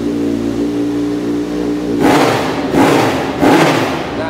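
A Kawasaki Z1000 motorcycle engine idles steadily, then is revved hard three times in quick succession, each loud burst rising and falling back to idle.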